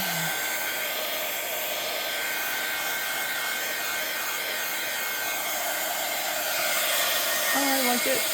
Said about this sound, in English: I am gonna hit it with the heat tool for just a second.